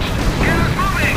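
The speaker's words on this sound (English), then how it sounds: "Oh, and the artillery started firing as well." In Company of Heroes, an artillery barrage fires in a dense, continuous rumble of booms during a full-on attack, loud and unbroken, with a voice talking over it.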